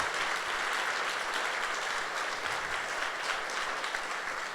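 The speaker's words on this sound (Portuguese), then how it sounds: "Dá um aplauso aí a Jesus." A church congregation at a Sunday service applauding, a dense steady wash of many hands clapping at a moderate distance that continues evenly throughout with no talking.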